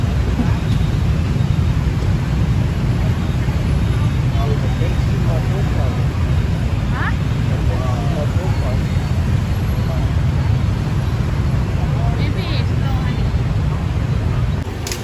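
Rush-hour traffic on a Ho Chi Minh City street, dense with motorbikes, forms a loud, steady, continuous roar close by that never lets up for the whole stretch.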